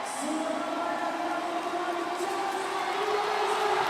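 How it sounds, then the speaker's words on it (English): Basketball arena crowd at a professional league game roaring in a steady, loud wash of cheering, with a rising tonal whine running through it, filling the whole moment without a break. "The crowd is hyped, folks."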